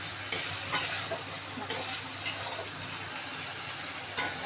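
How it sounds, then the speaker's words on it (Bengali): A fish head fries gently in a pan, salted and dusted with turmeric, under a soft, low sizzle, while a spatula scrapes and stirs a few times in sharp, spaced strokes. "এবার ভালো করে ভেজে নেব।"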